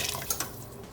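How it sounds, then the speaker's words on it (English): Beef stock poured into a soup pot of cooked vegetables, a brief, quiet liquid splash and trickle that fades within a second. "pour in the beef stock"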